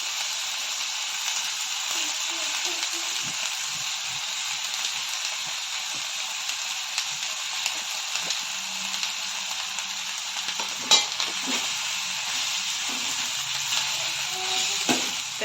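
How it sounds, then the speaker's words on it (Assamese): Banana flower fries in oil with potatoes and spices as it is stirred, making a steady hissing sizzle broken by soft scraping stirs and occasional light clinks. "ভালকৈ মছলাখিনি ভালকৈ লৰাই মানে মিক্স কৰি দিছোঁ চবৰ লগতে"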